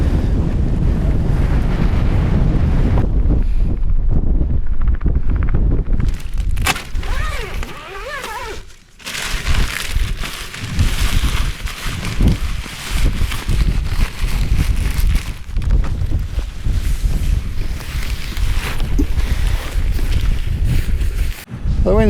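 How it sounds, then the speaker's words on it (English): Strong wind buffets a lakeside campsite on a cold, gusty day, a loud continuous roar battering the microphone with brief lulls, water and waves faintly beneath and no talk. "The wind's not too bad at the minute, about 15."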